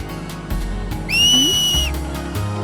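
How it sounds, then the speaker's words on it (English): A shrill, sustained finger whistle in a Final Fantasy video game rises sharply and holds for under a second over a low game-music backdrop with soft rhythmic thumps. "he takes time to teach Yuna how to whistle in case they get lost."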